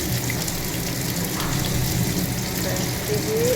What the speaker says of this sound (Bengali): এই যে রান্না শুরু হয়ে গেছে, এখানে মাছটা ভেজে নিচ্ছে।